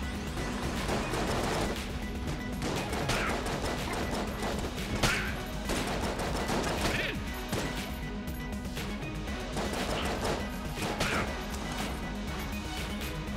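Dense, continuous gunfire from the video game Enter the Gungeon, with repeated sharp shot bursts and impacts layered over a busy, steady game soundtrack throughout.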